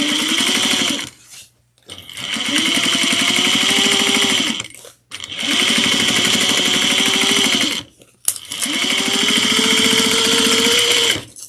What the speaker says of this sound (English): we're going to take this and we're going to top stitch, and we're going to top stitch onto